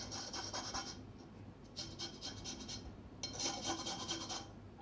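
Lime zest being grated for sour cream donut batter: repeated rasping strokes on a fine grater, close and fairly quiet, with a brief pause midway and no talking.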